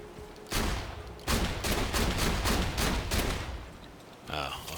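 Rapid bursts of gunfire from Borderlands 2 as a player shoots at the cords holding up a ramp, a string of loud, closely spaced volleys running for several seconds with a short gap early on.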